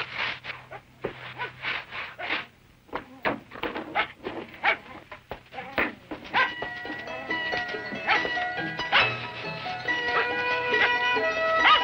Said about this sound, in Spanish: ¿Por qué estará ladrando ya?